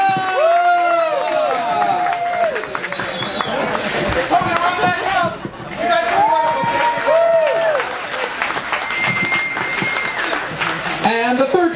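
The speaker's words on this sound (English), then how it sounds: "one more round of applause for Steve Cusetta!" A crowd applauds loudly while voices whoop and cheer over the clapping throughout.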